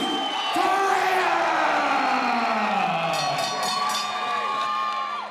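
A crowd at a boxing match roars for a fighter being introduced in the ring, a loud sustained wall of cheering with whoops and yells rising above it.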